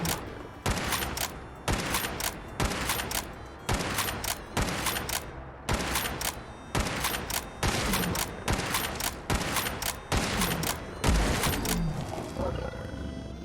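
Lever action rifle shots in the video game Fallout 4, fired at a Deathclaw with a standard Rio Grande rifle, a dense series of loud, evenly spaced booms with roaring creature noise between them, no talking.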